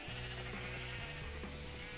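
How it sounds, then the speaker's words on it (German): Sheep in the video game Minecraft bleat over and over in a dense, continuous chorus, several animals overlapping loudly and close for the whole stretch. "Schafe ohne Ende."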